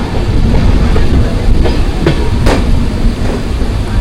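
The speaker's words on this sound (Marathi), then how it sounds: "वरतून ट्रेन चालली आहे मस्त" A passenger train running on its rails, heard from on board: a loud, steady rumble with faint rhythmic clacks running beneath it.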